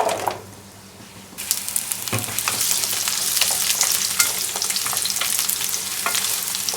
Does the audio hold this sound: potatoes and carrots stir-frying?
yes